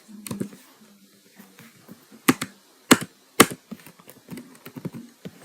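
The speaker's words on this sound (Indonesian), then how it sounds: "Misalnya teman-teman ngetik di sini." Typing on a computer keyboard, irregular clusters of sharp clicks and taps with a few louder key strikes, close and fairly dry, with faint murmuring in the background.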